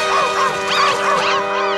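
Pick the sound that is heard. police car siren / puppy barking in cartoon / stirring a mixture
puppy barking in cartoon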